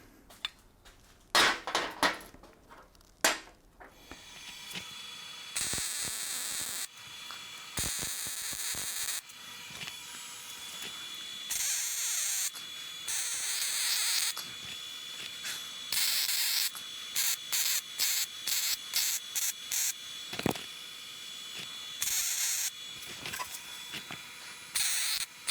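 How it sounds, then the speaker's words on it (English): Welding a wastegate adapter in a garage, bursts of harsh crackling hiss from the torch lasting a few seconds each, broken by short pauses and a few metallic taps, close and fairly loud. "let's weld that to our wastegate adapter."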